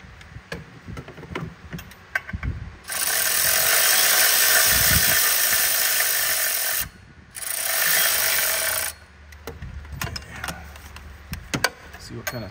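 A ratchet tightens bolts on a Ford 6.7 engine pulley, two long bursts of rapid clicking near the mic, framed by scattered clanks and handling noise.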